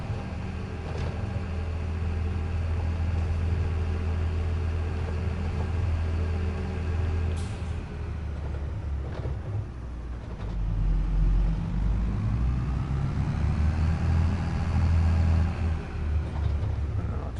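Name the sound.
vehicle engine idling in Farming Simulator 22 video game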